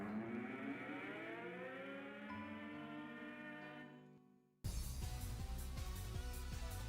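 A siren in League of Legends gameplay wails loudly in steady harmonic sweeps for about four and a half seconds, then cuts off abruptly into dense, busy game noise.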